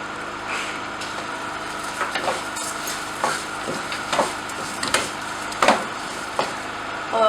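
Semolina halwa roasts in a pan as sugar is stirred in, with repeated scraping strokes and soft clinks over a continuous low sizzle.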